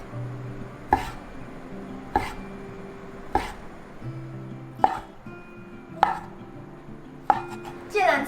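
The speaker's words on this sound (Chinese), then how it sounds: "先将面肠切成斜片状" Knife slicing wheat gluten sausage into diagonal pieces on a cutting board, six or seven distinct, evenly spaced chopping thuds with quiet pauses between them and no talking.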